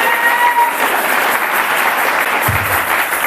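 A church congregation at a deliverance service breaks into dense, sustained applause and cheering, a loud, even wash of many hands clapping together that continues throughout with no break.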